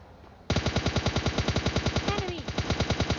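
Rapid automatic M4 rifle fire in the PUBG Mobile Lite shooter game, a fast, steady burst of loud, close shots running continuously for about three seconds after a brief quiet start.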